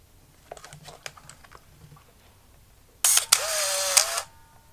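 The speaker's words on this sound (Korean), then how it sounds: "일단 셔터는 잘 작동을 하는 것 같고요." A Canon AF35M2 film camera with a data back fires its shutter with a sharp mechanical click, followed by a loud motorized whir of film advance lasting about a second, after some faint handling clicks.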